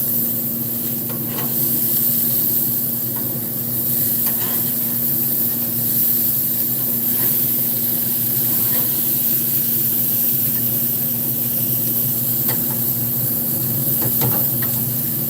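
Burgers sear on a smoker grill with a constant, dense sizzle and crackle, loud and close, with scattered small pops over a low steady hum throughout.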